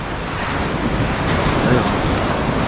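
Ocean waves wash along a beach in a steady broad rush of surf mixed with wind buffeting the microphone, close and fairly loud with no clear breaks.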